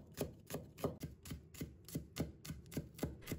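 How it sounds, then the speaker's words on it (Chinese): Knife chopping scallion whites into fine mince on a cutting board, a steady run of about eleven crisp, evenly spaced blade strikes, close and clear with no talking. "葱白切成葱末。"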